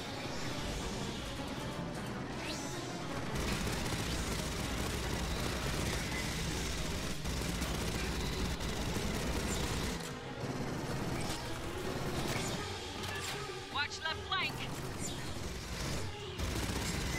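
Sustained gunfire in Aliens Fireteam Elite on a campaign extraction mission, dense continuous fusillade and machine-gun bursts filling the scene, loud and unbroken, with brief clattering mechanisms near the end.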